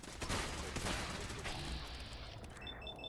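Rifle fire in Fallout 4, a dense burst of shots at moderate loudness that fades into a softer tail with faint electronic beeps near the end.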